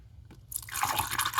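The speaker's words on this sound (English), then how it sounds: "And we're just going to pour it in" Coolant antifreeze poured through a funnel into the radiator of a 2016 Lexus RX 350, a short quiet pause then a bright, steady gurgling trickle of liquid, close and continuous.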